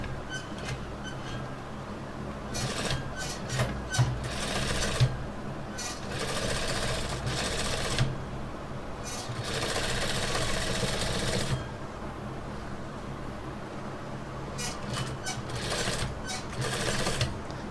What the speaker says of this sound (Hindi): तो ये मशीन के ऊपर हमने सिलाई लगा लेनी है इस तरह।